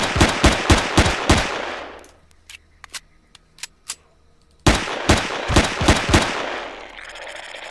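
Rapid automatic weapon fire in the sci-fi survival game Empyrion: two loud bursts of closely spaced shots separated by a quieter stretch of scattered single reports.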